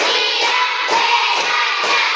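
Children clapping together in a counting clap game in a classroom, a few loud group claps at a steady beat mixed with chanting voices.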